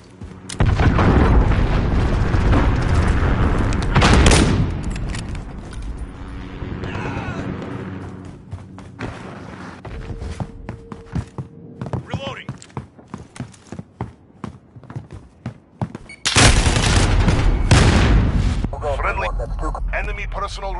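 Heavy booming blasts from a cruise missile strike in a video game roar loud and close, one long rumbling impact early and another later, with quieter game sounds and voices between them.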